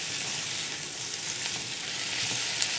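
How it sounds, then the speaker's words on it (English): Green peppers sauteing in a pan for Gobi Manchurian, a steady close hiss and crackle of frying with faint stirring clicks. "Green pepper has been sauteing for 2 minutes"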